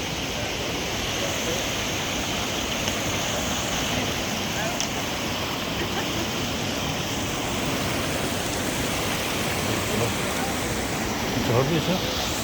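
A small waterfall along a river with swing-bridge trails, its steady broadband rush of falling water filling the scene continuously, with a voice narrating faintly over it.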